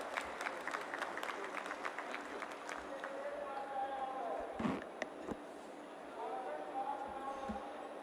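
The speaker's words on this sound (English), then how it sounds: "please give a huge round of applause for the Honorable Minister" Audience applause for the honorable minister at the inauguration of an international 6G symposium in India, a dense patter of clapping from a large hall that builds, dips and swells again over several seconds.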